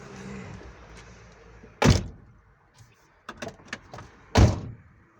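A Ford Connect car door shuts with a solid thunk, followed by a few small clicks and rattles, then a second heavy door slam; quiet otherwise.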